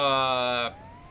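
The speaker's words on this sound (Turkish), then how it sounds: "Ambulans bey geldi." An ambulance siren in the Scary Teacher video game gives a brief, loud, buzzy tone that holds steady for well under a second, then cuts off abruptly.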